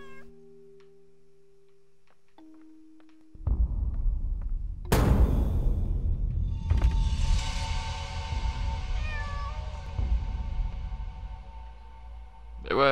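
A cat meows in the horror game Layers of Fear: Inheritance, rising calls over a loud, dense game ambience after a quiet opening, with no talking.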